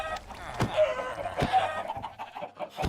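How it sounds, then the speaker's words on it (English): Chickens cluck and squawk in a video game as they are punched, a few sharp bursts over a steady game background, fairly close and moderately loud. "Punching chickens."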